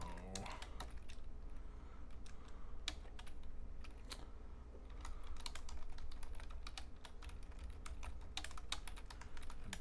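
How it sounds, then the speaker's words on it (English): Steady, close keystrokes on a computer keyboard, rapid and irregular for about ten seconds against a low background hum, with no voices. "I've been missing the E sometimes when I type, and I have to go back and fix it."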